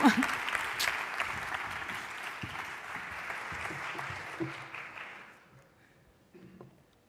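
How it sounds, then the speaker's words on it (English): Audience at the International Women in Sport Congress applauds a speaker, a warm burst of clapping that rolls on for about five seconds, then fades quickly into near quiet with a few stray claps. "A big, warm, and well-deserved applause for her."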